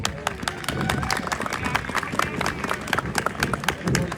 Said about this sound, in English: Ladies and gentlemen, boys and girls, children of all ages, einmal applause for Sully aus Germany